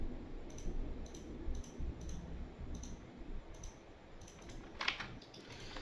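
A computer keyboard is tapped to enter a Revit command shortcut, giving a sparse series of distinct, fairly quiet clicks spaced irregularly apart, with no talking.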